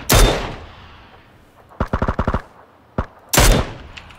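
Gunfire in a battle royale video game: a loud close shot, a rapid burst of automatic fire, a single crack, then another heavy shot.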